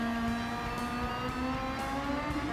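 Toyota RAV4 Adventure engine in Gran Turismo 7 drones steadily and loud throughout, a sustained hum rising slightly in pitch with small dips as the throttle shifts, heard alone without talk.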